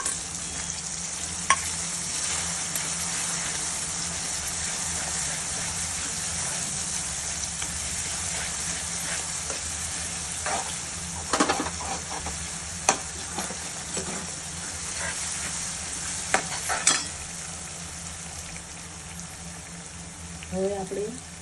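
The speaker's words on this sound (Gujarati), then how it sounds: "હવે આપણે એની અંદર લસણ, આદુ અને મરચાંની પેસ્ટ ઉમેરીશું।" Garlic, ginger and chili paste frying in a pan while being stirred, a steady soft sizzle running throughout with a few sharper scraping clinks of the spoon near the end.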